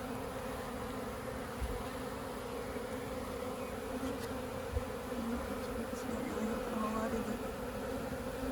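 Bees trapped inside a window during a swarm catch keep up a dense, steady buzzing drone up close, continuous for the whole stretch with faint bumps against the glass.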